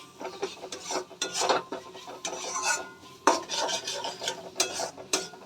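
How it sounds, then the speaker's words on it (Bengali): A spoon scraping and stirring chickpea curry in a metal pan, with repeated rubbing strokes in an uneven rhythm, close and moderately loud, with no talk. "ভালো করে মিশিয়ে নিয়েছি।"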